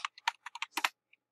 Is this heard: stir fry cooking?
no